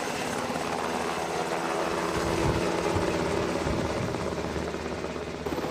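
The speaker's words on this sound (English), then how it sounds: "Meet the iconic UH-60 Black Hawk helicopter." A UH-60 Black Hawk military helicopter thuds with steady rotor chop over a deep engine rumble, loud and continuous throughout, with no voices.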